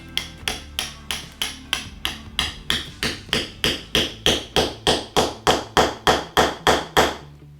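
A hammer drives a threaded steel rod into a chemical anchor capsule set in a drilled hole, about twenty steady, evenly spaced metallic blows, loud and close, growing slightly stronger toward the end.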